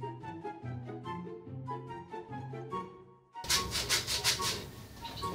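A steady, rhythmic rubbing and scraping of sanding animal horns for coat racks, first moderate then louder and harsher with a burst of bright abrasive strokes near the end.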